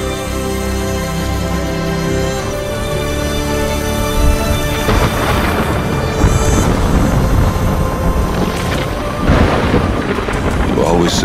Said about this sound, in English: Said a storm was coming.